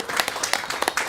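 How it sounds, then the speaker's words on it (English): An audience claps for two special guests, a short burst of scattered, fairly quiet applause with distinct individual claps. "give a round of applause to my two very special guests"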